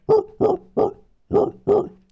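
A human voice imitates a dog, giving five short, loud woofs in an uneven rhythm, close to the listener and with nothing else underneath.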